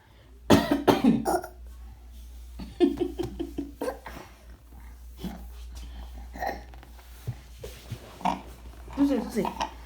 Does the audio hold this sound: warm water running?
no